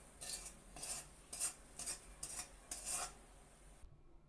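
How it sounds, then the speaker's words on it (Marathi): Dry puffed rice (churmura) being tossed and mixed with a curry-leaf, garlic and chili spice mix, giving six rhythmic rustling, scraping strokes at close range before falling silent. "आता हे आपण सगळं मिक्स करून घेऊया. व्यवस्थित असं मिक्स करून घ्यायचं आहे, सर्व चुरमुऱ्याला लागलं पाहिजे."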